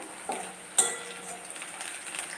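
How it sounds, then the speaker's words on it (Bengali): Quiet, steady sizzling of onions frying in a pan, with a couple of light utensil clinks. "এখন দেখুন পেঁয়াজগুলো কিন্তু যথেষ্ট ভাজা হয়ে গেছে"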